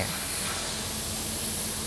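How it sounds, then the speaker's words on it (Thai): Paint thinner is sprayed onto a surface to strip paint, making one steady, loud, close hiss that runs unbroken for the whole moment, with no voices. "นี่กำลังพ่น ทินเนอร์ นะครับเพื่อจะให้กัดสี"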